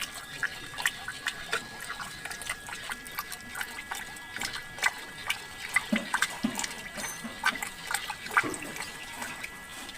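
Dinuguan, a pork blood stew with coconut milk, being stirred in a pot, giving steady wet sloshing and clicking scrapes that run continuously at close range.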